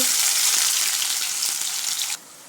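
Garlic, green chillies and chopped onion hitting hot oil with mustard seeds in a kadai, a loud steady sizzle that cuts off abruptly near the end.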